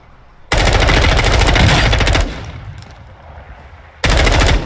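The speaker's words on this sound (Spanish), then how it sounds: "Están disparando." Loud automatic gunfire in the battle royale video game Warzone 2.0, a sustained burst of rapid shots, a pause with lower rumble, then another burst starting near the end.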